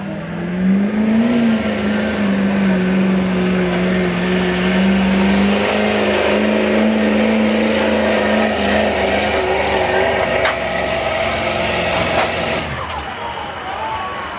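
A mostly stock Duramax pickup truck roars loudly at a hot street truck pull, its engine holding a steady high-powered drone that swells briefly and then eases off near the end.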